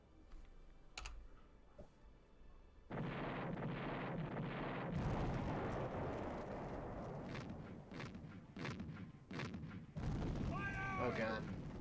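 Howitzer artillery fire in the Civilization II video game: a sudden booming burst leading into sustained rumbling blasts, mixed with keyboard clatter and occasional talk.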